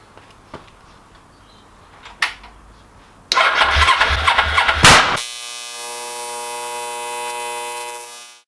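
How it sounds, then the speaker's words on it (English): A Suzuki GS500 motorcycle left unstarted for years is cranked at the button, giving a burst of uneven, whirring starter-and-engine churning that stops abruptly and is followed by a steady electrical hum and ringing tone. "It's time to hit the button and see what happens."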